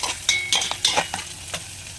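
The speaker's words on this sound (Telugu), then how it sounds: "కొంచెం ఫ్రై అయ్యేంత వరకు కలుపుకొని కొంచెం పసుపు యాడ్ చేసుకొని కలుపుకోవాలి." Onions frying with a pinch of turmeric are stirred in a pan, a close, lively sizzle broken by several quick scraping strokes of the spoon over about two seconds, with no talking.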